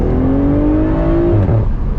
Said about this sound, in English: This inline six is such a legendary engine.